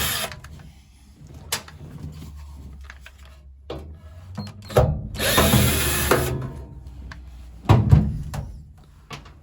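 A power drill backing out side screws on an installed glove box in a car, short bursts of whirring motor separated by pauses and ratcheting clicks, close and moderately loud.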